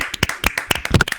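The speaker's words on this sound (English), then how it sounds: "Give him a hand, boys." A short burst of clapping from a small group at a Race of Champions event, a handful of quick, uneven, close hand claps lasting about a second.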